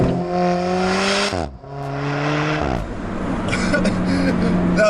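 A remapped Alfa Romeo 4C's 1.7-litre turbocharged four-cylinder engine revs up in rising sweeps, drops, then climbs again before settling into a steady roar with some road noise, loud and close.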